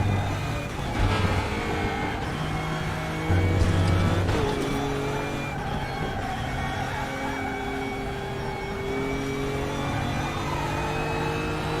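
Tyres squeal through a long right-hand corner in the RaceRoom racing game, a steady engine drone with held tonal whine running throughout at a fairly loud, even level, no talking.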